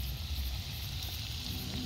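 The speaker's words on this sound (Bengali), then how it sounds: "আমাদের পকোড়া ভাজা প্রায় হয়ে আসছে।" Pakoras frying in oil at a riverside campsite give off a steady, soft sizzle that runs evenly through the whole moment, fairly close and moderately quiet, with no talking.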